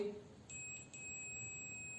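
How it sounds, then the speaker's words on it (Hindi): A continuity tester checking a normally open/normally closed electrical contact gives a thin, high beep that starts after half a second and holds steady to the end, fairly faint over a quiet background. "तो बीप की आवाज आ रही है"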